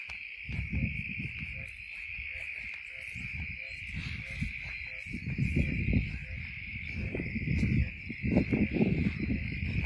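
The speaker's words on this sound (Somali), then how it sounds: "waa maqlaysaa raha wax ka yeera" Frogs calling at night in a village, a continuous high trilling chorus that holds steady throughout, with a low rustling rumble underneath and no talk.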